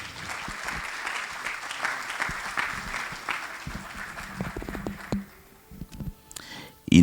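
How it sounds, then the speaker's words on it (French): Crowd applause at a national transport conference, dense and steady, fading out after about five seconds into a few scattered claps and some movement. "On va faire de vifs applaudissements pour Monsieur Yacouba Koné."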